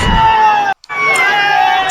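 A crowd of young supporters cheers and shouts at an election victory procession for a newly elected legislator in Akole taluka, a loud, dense roar with whoops, broken by a brief near-silent gap before the clamor resumes.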